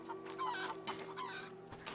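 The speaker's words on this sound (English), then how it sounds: "Look at the chickens." Chickens cluck in the medieval farmyard of the video game A Plague Tale: Innocence, a steady run of close, clear clucks over a low constant hum, with no talking.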